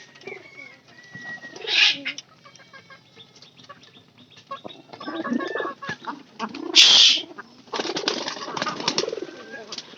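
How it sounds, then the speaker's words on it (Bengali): Pigeons coo in soft, throaty bursts, with a couple of louder close calls and scattered bird chatter around them; a faint voice is heard briefly. "এই যে আমাদের কবুতর গুলা"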